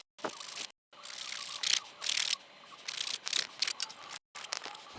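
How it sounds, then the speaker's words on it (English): A round rasp gently scrapes the inside of holes drilled in a wooden board. Short, soft, close rubbing strokes come in uneven bursts separated by brief silences. "I'm just going to take my round rasp and clean up the insides of those holes"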